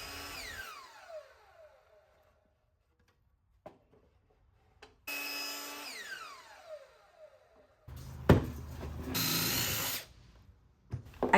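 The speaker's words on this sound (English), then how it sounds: "I created pocket holes on either end of the boards" A power drill bores pocket holes into plywood boards in short bursts, each rising whine and bite into the wood separated by quiet pauses, close and fairly loud.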